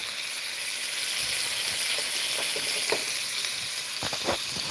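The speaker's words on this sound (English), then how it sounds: "you can't tell me that that isn't one of the most beautifully seared steaks you've ever seen" Beef steak searing in a hot pan: a steady, loud, close sizzle throughout, with a few faint pops and light clicks near the end.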